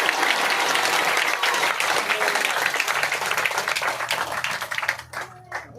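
Church congregation clapping and applauding during a Hindi sermon, loud dense clapping that thins and breaks into scattered claps near the end.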